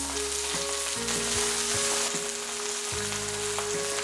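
Green chillies sizzle steadily in hot oil in a pan for a Telugu-style mint and coriander chutney, a continuous dense frying hiss with faint tonal background notes and no speech.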